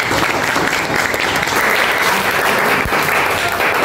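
Classroom applause from a group of students during a teaching practice session, a dense burst of clapping that holds steady for a few seconds with a faint murmur underneath.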